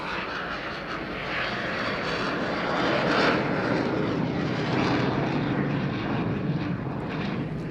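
At an airshow display, a jet fighter lights its reheat and climbs away after a slow gear-down pass, a loud sustained engine roar that swells in the middle and stays strong throughout.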